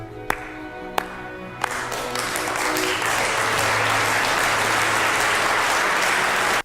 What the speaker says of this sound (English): This deserves a slow clap.